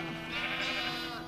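A sheep-like mob in the Minecraft video game bleats in one sustained, wavering call lasting over a second, fairly loud and close, with no talking over it.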